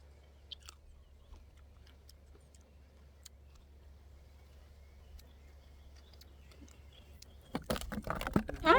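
A crunchy apple picked at a farm in the evening is eaten close up: a long quiet stretch with scattered small clicks, then loud, crisp bites and chewing crunches in the final second or so.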